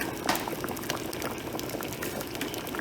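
Ogbono soup boiling steadily in a pot, a dense continuous bubbling and popping close by with no talk.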